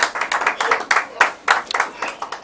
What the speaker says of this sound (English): So please, let's give him a big hand of applause, Architect Foster.